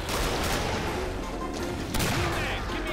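Gunfire in the co-op shooter Killing Floor: a dense, continuous barrage of shots and blasts fills the mix loudly throughout, with players talking faintly underneath.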